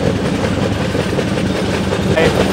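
A moving train from Sealdah toward New Jalpaiguri rumbles steadily with a continuous rattling clatter, loud and close throughout, with faint voices murmuring beneath.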